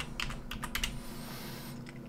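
Quick bursts of typing on a computer keyboard while renaming a rule in trading backtesting software, clustered keystrokes early then trailing off over a steady low hum, no voices.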